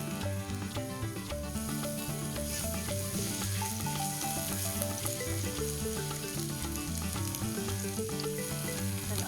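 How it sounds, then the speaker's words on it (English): Garlic frying in olive oil with a steady, close sizzle that runs for the whole stretch, while music plays over it. "A tablespoon of olive oil. Add in your garlic."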